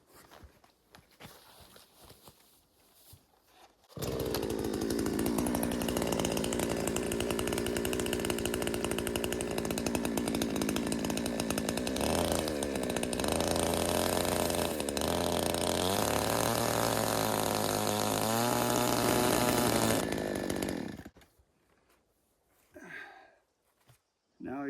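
A power saw, likely a chainsaw, cuts into a log for a tiny log cabin high in the Colorado mountains, roaring loudly and continuously for about sixteen seconds with pitch dips as it bites, framed by quieter footsteps and movement.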